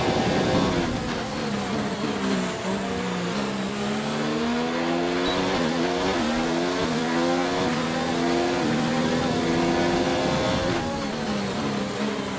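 Formula 1 race car engine in the F1 2019 video game, at the Hungarian Grand Prix: a loud, continuous high-pitched engine whine that rises and drops with gear changes and throttle, close and steady throughout.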